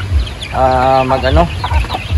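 Chickens cluck loudly and close by on a poultry farm in General Santos City, one drawn-out call standing out among scattered clucks and farmyard noise.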